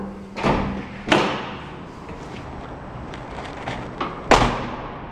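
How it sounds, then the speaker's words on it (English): A heavy door slams shut three times, each impact a loud, sharp bang like a gunshot with a brief ringing decay, separated by a few seconds of quiet outdoor ambience. "Listen to this door."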